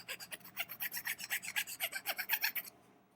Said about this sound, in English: I can go in here and say smooth out the inside of this hole here, like smooth the edges.